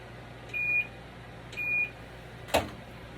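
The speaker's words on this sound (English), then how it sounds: "Let me set a timer here." A Pampered Chef kitchen timer with four timer settings gives two short, clear electronic beeps about a second apart, then a sharp click as it is set, close by in a quiet kitchen.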